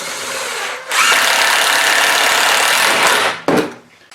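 A power drill drives screws into plywood while a belt grinder stand is being built: one loud, close, steady whir lasting about two seconds, then a short final burst before it stops.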